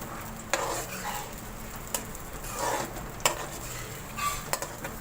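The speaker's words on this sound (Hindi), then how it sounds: "ये प्याज, तो मैं फ्राई कर लूँगी अच्छी तरह से।" Sliced onions frying in a pan for achar gosht give a steady close sizzle, broken by a few sharp clinks of a utensil against the pan as they are stirred.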